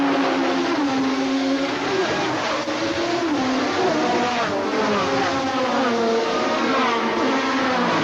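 A field of 1986 IMSA Camel GTP prototype race cars roars away at the green-flag start at Laguna Seca, a dense continuous wall of revving engines and overlapping exhaust notes, loud and sustained throughout.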